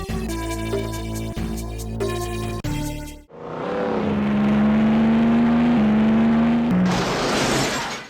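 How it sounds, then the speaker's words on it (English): Stock cars in the 1995 PlayStation racing game Destruction Derby, first with game music and clunks, then a loud sustained engine drone rising and revving steadily for several seconds, ending in a bright whooshing burst. "Destruction Derby has you racing stock cars."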